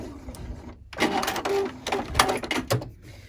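A sewing machine stitches a fabric luggage tag in short bursts of close, rapid running that start and stop several times, with brief pauses between runs.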